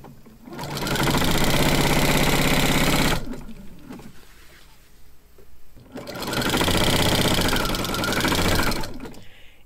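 A sewing machine with a walking foot stitches quilt binding strips in two loud, close, steady runs of rapid mechanical chatter, separated by a quieter pause with handling noise.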